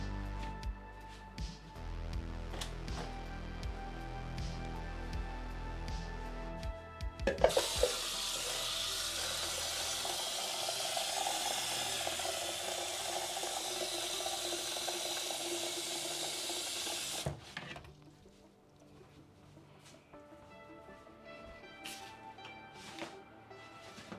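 A tap runs steadily for about ten seconds in a ceramics studio, filling with water for mixing glaze, a broad, close hiss that starts and stops abruptly between quieter handling noises.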